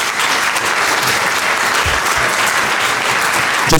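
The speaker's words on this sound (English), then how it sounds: "Round of applause for our speakers." An audience at a panel on social isolation and loneliness applauds its speakers, a dense, steady round of clapping filling the room at full volume throughout.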